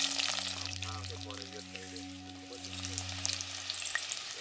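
Garlic drops into a spoonful of hot oil with mustard seeds and cumin for a Gujarati tempering, a bright crackling sizzle running throughout alongside a low steady hum, with no talk.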